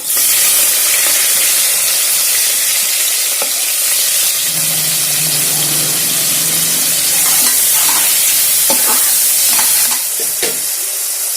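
Onions and green chillies fry in hot oil with cloves, cardamom and bay leaf for kuska biryani, a loud continuous sizzle with stirring scrapes and occasional sharp clinks throughout.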